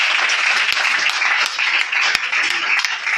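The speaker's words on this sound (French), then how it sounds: "Acclame Jésus." A church congregation applauds steadily and loudly for several seconds, a dense wash of many hands clapping, with voices mixed in.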